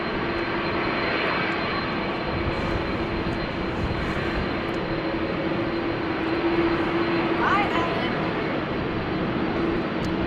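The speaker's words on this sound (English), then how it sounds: "I also think that the Turkish A330 is coming this way, going to the runway that will open up pretty soon." The jet engines of a Turkish Airlines Airbus A330 taxiing toward the runway at Amsterdam Schiphol Airport on a wet, windy day make a constant, steady roaring drone that holds at one level throughout.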